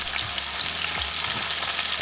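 Potatoes and onions for tortilla española fry in a pan with a dense, steady sizzle while they are stirred, giving faint low scrapes beneath the continuous crackle.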